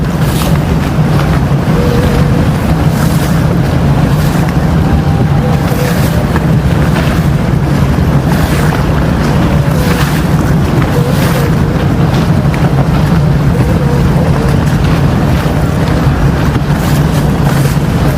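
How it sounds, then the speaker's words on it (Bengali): Steady low engine drone of boats and large multi-deck river launches on the water at Sadarghat, with wind buffeting the microphone, continuous and fairly loud throughout, no voices. "সব নৌকা আর নৌকা আর লঞ্চ আর লঞ্চ বড় বড় লঞ্চ দোতলা তিনতলা"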